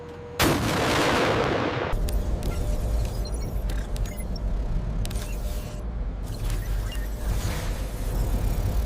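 HIMARS rocket artillery firing on a fire mission, heard as a sudden loud launch blast followed by a sustained roaring rush and rumble that fades into scattered crackles and clicks, with no talk.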